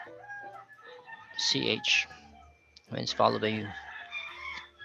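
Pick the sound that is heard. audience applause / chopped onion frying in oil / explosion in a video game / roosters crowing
roosters crowing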